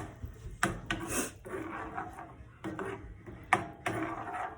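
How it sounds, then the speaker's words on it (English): Huevos rancheros mixture stirred in a pan, a rough scraping rasp that comes in several bursts with short pauses between strokes, close and moderately loud with no talking. "I'm gonna mix it."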